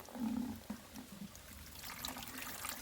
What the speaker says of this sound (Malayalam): ആദ്യം നമ്മൾ ബക്കറ്റിൽ കുറച്ച് വെള്ളം എടുക്കുക